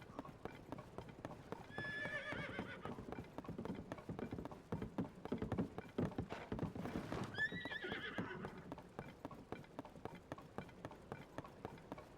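Rhythmic horse hoofbeats from the video game Zelda: Tears of the Kingdom clop steadily throughout, broken by two loud neighs, one early and one in the middle, with a faint voice in the background.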